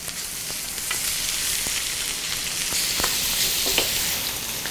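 Unsalted butter sizzles in a frying pan alongside steak, a steady dense crackle throughout with a few sharper pops, close and fairly loud, no voices.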